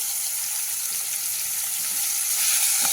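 Onion and tomato sautéing in a pan give a steady close sizzle with broad high hiss. Soft scraping comes through near the end. No one speaks.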